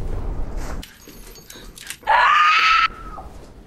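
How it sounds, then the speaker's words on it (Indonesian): A person screams for help from a basement where they are locked up inside a psychopath's house, a sustained, loud, strained cry of about a second after quieter muffled noises and thuds. "Mendengar teriakan seseorang"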